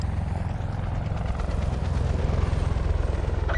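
Helicopter flying overhead, its rotor giving a steady, fast rhythmic thumping over a continuous engine drone, fairly loud and constant throughout, with no voices.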